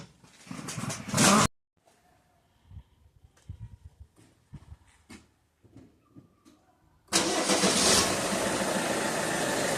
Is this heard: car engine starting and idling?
yes